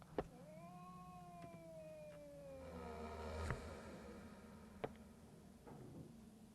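A creature in the video game Psychopath Hunt Revamp lets out a long, wavering meow-like cry that slides downward, with a few sharp clicks and thumps around it.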